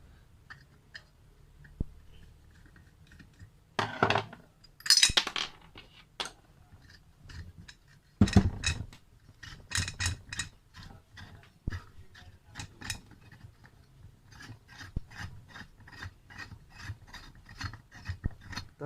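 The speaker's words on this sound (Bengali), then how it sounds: "এবার আমাকে এইগুলো খুলতে হবে, ফ্লায়ার্সের সাহায্যে এগুলো খুলতে হবে।" Pliers work loose the nuts and bolts of a ceiling fan under repair, giving quiet, irregular metallic clicks, scrapes and ratcheting ticks, some in short quick bursts, with no talking.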